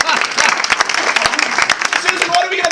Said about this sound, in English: Rotary applause for Paul Harris.